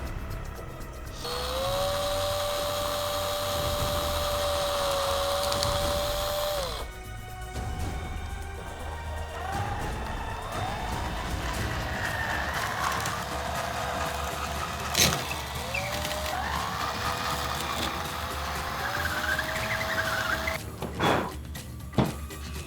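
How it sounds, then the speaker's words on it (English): A power drill bores holes in the 3D printed body of a 1:1 scale Borderlands 2 Orphan Maker replica shotgun, a steady whining motor run of several seconds followed by shorter revving bursts and a few sharp clicks, close and fairly loud. "I've finished drilling all of the holes now."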